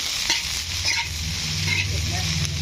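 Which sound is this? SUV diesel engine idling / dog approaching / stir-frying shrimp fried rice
stir-frying shrimp fried rice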